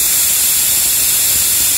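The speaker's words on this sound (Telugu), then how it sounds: "మూడు విజిల్లు వచ్చాయి।" A pressure cooker holding ridge gourd and toor dal vents steam through its whistle, a loud, close, continuous hiss that holds steady throughout.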